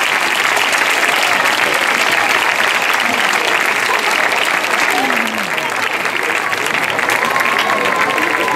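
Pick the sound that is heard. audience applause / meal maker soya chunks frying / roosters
audience applause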